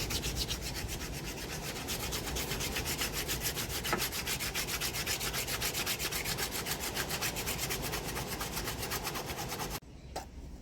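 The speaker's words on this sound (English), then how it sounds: "I'm going in with some aggressive sanding." Wooden hiking sticks get aggressive hand sanding in a workshop, a fast, even rasping rhythm of close, continuous strokes that runs for about ten seconds before stopping abruptly.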